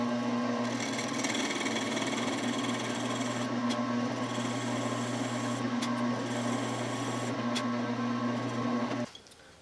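A 2-flute end mill cuts a flat spot in metal on a small milling machine, then a drill bit bores in, giving a steady machine hum with a constant motor tone and faint scraping ticks, ending abruptly near the close.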